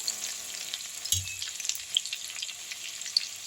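Green chilies and black pepper fry in oil for homemade vegetable egg fried rice, a soft, crackly sizzle with scattered pops and one low scrape or knock of the spoon partway through.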